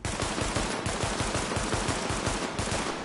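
Police M4 rifle with a muzzle brake and compensator fires a sustained rapid burst in Tom Clancy's The Division, loud continuous automatic fire with dense repeated shots across the whole stretch.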